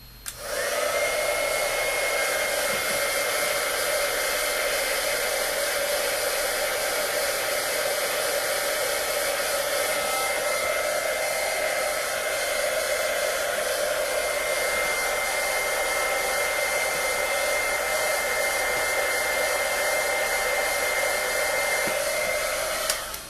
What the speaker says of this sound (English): I'm going to try not to burn my fingers as I bring over my heat tool.